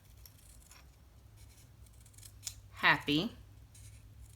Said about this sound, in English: just literally cut right above birthday, snip, and then cut right below